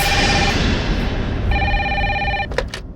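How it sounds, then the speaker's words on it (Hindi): A telephone rings in a police station, a loud steady electronic ring tone that repeats with a brief gap over a busy background hum, ending in two short sharp beeps. "कैसा फोन है, फिर भी बज रही है।"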